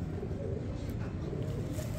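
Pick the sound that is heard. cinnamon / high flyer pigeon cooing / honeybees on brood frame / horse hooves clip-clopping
high flyer pigeon cooing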